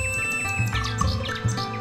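A nightingale in a children's fairy tale sings a quick, bright run of chirps and whistled notes, trilling and sliding up and down over a short, continuous phrase.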